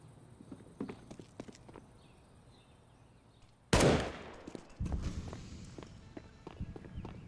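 A single loud gunshot cracks out in Counter-Strike: Global Offensive, a sharp burst with a ringing tail, amid repeated footstep taps and small clicks in the quieter game soundscape.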